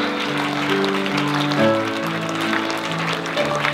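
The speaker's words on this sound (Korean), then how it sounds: "뜨거운 박수 부탁드립니다" Wedding guests clap for the bride's entrance in a hall while a music track plays, the applause soft and diffuse under a steady melody throughout.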